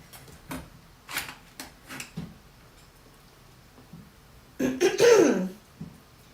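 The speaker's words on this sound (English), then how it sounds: "I am clearing my throat off screen" Someone clears their throat in a rough burst near the end, after a few soft scattered taps and clicks, close by in a quiet room.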